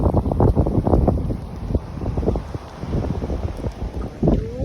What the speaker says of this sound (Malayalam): കാറ്റാ, ഒച്ച കേൾക്കുന്നുണ്ടോ കാറ്റിൻ്റെ?